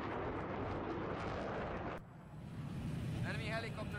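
Jet aircraft in Battlefield 3 roaring steadily through a 180-degree turn and roll, a broad loud rushing engine wash that drops briefly midway, then resumes with a faint warbling tone.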